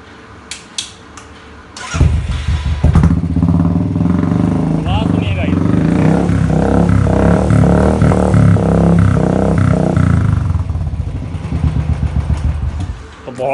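A Royal Enfield Thunderbird 350X fitted with an aftermarket silencer starts up about two seconds in, then idles close and loud with a deep, steady thumping exhaust beat.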